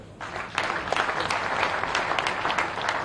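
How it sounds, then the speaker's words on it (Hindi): Audience applause welcoming a speaker at a political rally in Bhopal, Madhya Pradesh: steady, dense clapping from a large crowd that swells after a brief quieter start and holds at an even level throughout. "तालियां बजा के स्वागत।"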